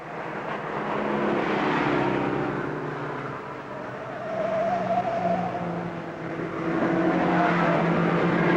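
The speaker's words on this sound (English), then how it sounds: "That's the 7D, that's Jim Wright's Studebaker Lark" A Studebaker Lark race car in the 1963 Armstrong 500 at Bathurst passes with a broad, steady engine roar whose pitch rises and falls, fairly loud and continuous with no talking.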